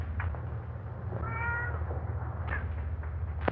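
Cats meow in a backyard in an old 1934 film, with one drawn-out meow and a few short, fainter cries over a steady low hiss.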